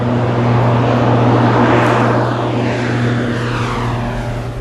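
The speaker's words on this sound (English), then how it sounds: "We've hitched a ride on a cassiterite plane going back to Goma, the Walikale Express." Cargo plane carrying about 1.7 tons of cassiterite ore from Walikale to Goma in the Congo, heard from inside as a loud, steady propeller-engine drone with a constant low hum that eases slightly toward the end.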